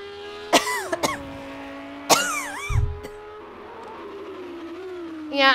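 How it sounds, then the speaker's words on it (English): A person has a coughing fit, with several sharp, harsh coughs in quick bursts and some throat clearing, heard close and loud over a low, steady hum of racing-game engine sound. "Yeah, another coughing fit."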